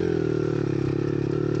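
A motorcycle on a street-tyred front wheel is ridden over rough dirt ground, its engine droning steadily and close with a rough, buzzing tone and some clatter, with no talk.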